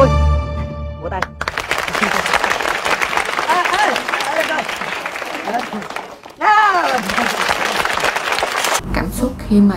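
A student film festival crowd applauds at length, loud and dense clapping mixed with voices and cheering, broken by brief abrupt cuts and speech near the start and end.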